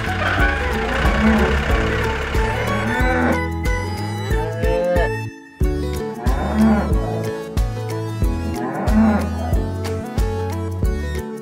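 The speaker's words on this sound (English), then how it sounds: "We can feed our cows now" Farm cows moo in several long, deep calls, loud and close, with a brief pause partway through and a vehicle engine idling faintly underneath.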